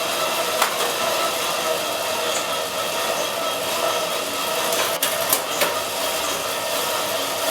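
Bicycle wheels spin up to speed on training rollers, a steady broadband whir holding at an even level throughout, with a few faint ticks and clicks on top.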